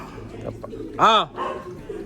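A racing pigeon gives a single short, close coo that rises and falls, set among faint rustling and low background noise.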